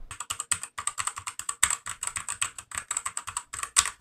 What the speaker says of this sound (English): Out of all of these keyboards, the K60 Pro's keys sound the most clicky.